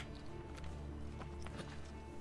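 A horse gallops in Assassin's Creed Brotherhood, its rapid rhythmic hoofbeats clopping steadily over a constant low game ambience, fairly soft and continuous.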